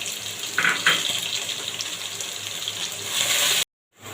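Garlic dropped into oil heated on high for a Chittagong-style tomato pickle hisses in a loud, steady, close sizzle, broken by a couple of brief pops before cutting off abruptly.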